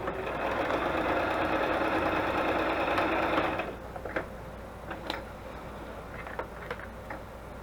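A sewing machine stitches a paper matchbook in one steady, close whirring run of about three and a half seconds, then stops, leaving faint clicks and small handling taps.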